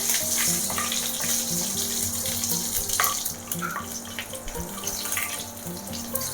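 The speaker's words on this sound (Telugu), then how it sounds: "ఇవన్నీ కొంచెం ఫ్రై అవుతున్నాయి కదా" Two dried red chillies and a green chilli fry in hot oil on a stove, giving a steady close sizzle and crackle with small pops scattered throughout, no voices.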